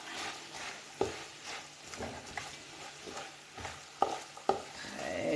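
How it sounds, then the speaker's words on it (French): A spoon stirs crab and okra sauce in a cooking pot over a soft sizzle, scraping and swishing, with a few sharp clinks against the pot. "On mélange le tout ensemble."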